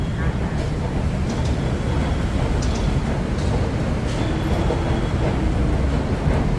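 Continuous low rumble of Bangkok's Yellow Line electric train running along its track, with steady mechanical whir and faint higher whines, moderately loud and nearby.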